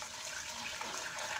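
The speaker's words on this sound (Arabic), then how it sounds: "وغادي نضيف الزيت" Oil is poured into cookie dough in a kitchen, giving a faint, soft liquid rush that runs evenly with no voices over it.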